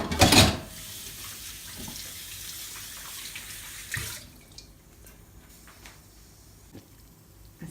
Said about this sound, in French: Je lave mes mains.